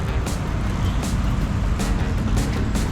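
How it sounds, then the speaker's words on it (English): Steady road traffic noise on a casino-lined city avenue, with a low engine rumble and passing vehicles, continuous and fairly close, with occasional brief hisses. "You're still walking by, you're hearing cars, you're hearing everything going on."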